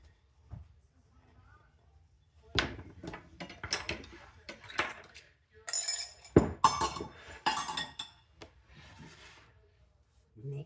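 Chocolate chip cake batter is stirred in a bowl, with scattered clinks and scrapes of a utensil against the dish, coming in irregular bursts with quiet gaps between them.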